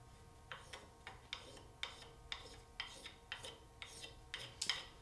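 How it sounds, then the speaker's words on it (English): Hand sanding of a wood veneer glued onto a compound curve, a faint rhythmic rasp of strokes repeating about twice a second, close up and alone. "So I'll take this over and sand that veneer."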